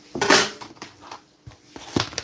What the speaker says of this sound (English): Chopping up my chicken, yo.